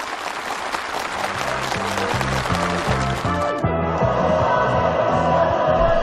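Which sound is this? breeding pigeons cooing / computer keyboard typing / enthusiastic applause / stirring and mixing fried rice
enthusiastic applause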